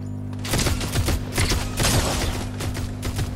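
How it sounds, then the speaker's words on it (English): Rapid bursts of gunfire in a Fortnite Chapter 3 Season 4 duo match, several volleys crackling over a steady game music drone, loud and close throughout. "Who are you shooting at?"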